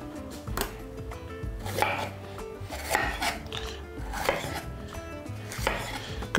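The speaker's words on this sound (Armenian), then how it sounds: "Կտրատում ենք ձողիկների" Sweet pepper being cut into sticks with a knife on a board, a series of close, fairly loud chops and scrapes at an uneven pace, with no voices.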